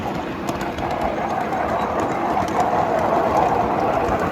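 A continuous loud rumble and roar of a freight train of locomotive, water car, bunk cars and caboose rolling past nearby, with faint rhythmic clacking.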